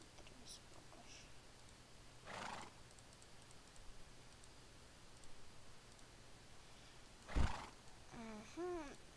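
Horses neigh and whinny in a video game while building a farm, with a loud close whinny near the end and brief hoof clatter, spaced bursts over quiet background.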